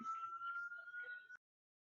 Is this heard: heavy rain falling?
no